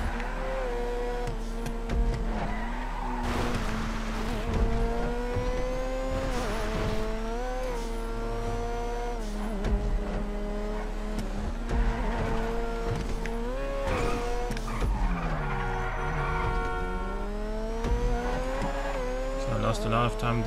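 A car in GTA V on PC revs and shifts through gears with long tire squeals and skids, its engine steady and loud throughout while someone talks over it.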